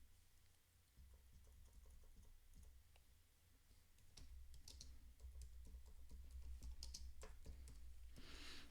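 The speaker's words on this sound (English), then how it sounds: "I'll just type in join the mailing list" Keys clatter on a computer keyboard in soft, uneven bursts of typing, faint and close, with scattered single clicks between runs and no talk.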